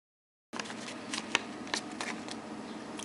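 Tape is applied to a paper dragon head, heard as close, soft papery rustles and crinkles with a few sharp tape snaps, starting after a short silence.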